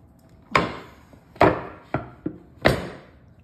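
A cake is flipped out of a baking pan and knocked loose: five sharp, close thumps and raps on the pan, irregularly spaced, with no talking.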